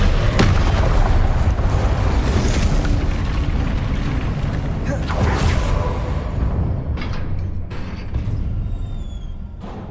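Repeated Confringo blasting spells in the Hogwarts Legacy video game erupt as loud, deep explosive booms and rumbling bursts that dominate for several seconds, then thin out toward quieter crackling debris at the end.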